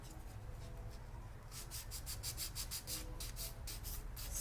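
A nail file rubs back and forth across a nail tip in quick, regular rasping strokes, close and fairly soft, with no voices.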